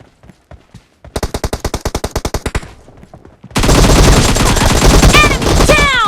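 Rapid bursts of automatic gunfire in a shooting video game: a few scattered shots, a fast even volley of about a dozen rounds, a pause, then a dense loud barrage with ringing and whizzing effects.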